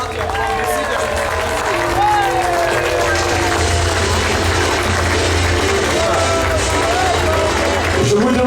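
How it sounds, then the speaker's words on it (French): Large outdoor crowd applauding English participants at a Hastings 1066 commemoration, a steady wash of clapping and cheering with crowd babble and voices throughout, loud and sustained for the whole stretch. "Je vous demande de les applaudir très très fort, bien sûr."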